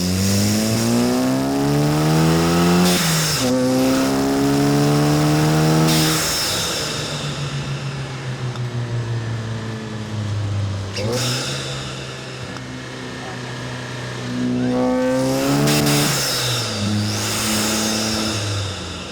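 A VW Mk7 GTI with an aftermarket downpipe revs repeatedly, the engine climbing through gears in long rising pulls with brief shift pauses and turbo bursts between, loud and close, heard alone.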